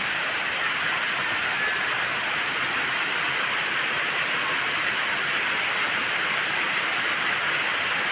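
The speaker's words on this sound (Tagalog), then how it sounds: "Ang aga ng ulan." Steady, dense rain pours down continuously, a broad hiss with scattered droplet ticks on surfaces, no voices present.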